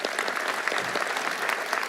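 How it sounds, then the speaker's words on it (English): A graduation audience for Class 226 claps steadily and densely for nearly two seconds, with no pause or talk over it. "Give yourselves a round of applause."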